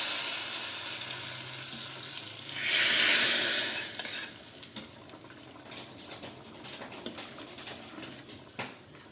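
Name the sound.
tempering sizzling as it is added to spinach tamarind stew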